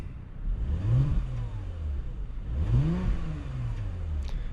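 Two throttle blips from a Porsche Macan S 3-liter V6 with its exhaust valves closed, each a quick rising then falling rev, muted and close, with a steady idle between them.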